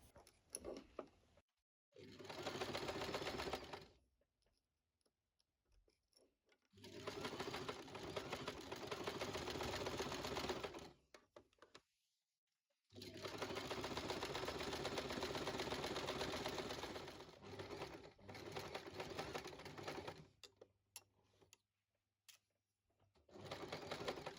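An electric sewing machine stitches a lace dress in three long, steady whirring runs separated by silent pauses, close and clear with no talking.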